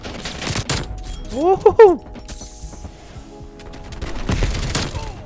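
Suppressed M16 rifle fire in Call of Duty: Black Ops Cold War, rapid muffled bursts at the start and again near the end, with a voice cheering loudly in between.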